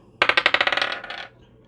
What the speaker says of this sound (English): I'm going to roll this dice to see what other signs you're dealing with